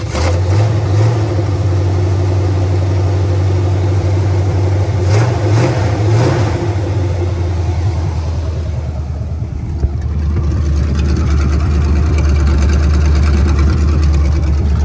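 A 1973 GMC truck engine runs rough at idle, a loud steady rumble that revs up in three quick bursts midway before settling back to an uneven idle, with no talk over it.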